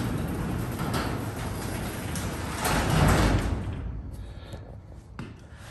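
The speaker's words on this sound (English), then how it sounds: "Because I'm going to close the door." Garage door slides shut, a rolling rumble that swells to a peak midway and then stops with a faint thump, leaving quieter room sound, with no voices.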